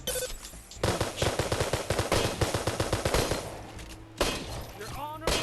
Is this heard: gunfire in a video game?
yes